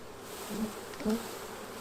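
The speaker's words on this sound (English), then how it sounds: "So take the time to shake off the bees." Honeybees buzz close by in a steady drone around a hive frame, with a couple of louder swells as individual bees pass near.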